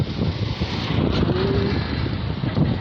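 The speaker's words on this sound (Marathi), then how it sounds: "मस्त असा थंडगार वारा सुटलेला आहे" Cool wind blows across the microphone near the Chandrabhaga river in Pandharpur in the evening, a continuous low, rumbling buffet with no voices.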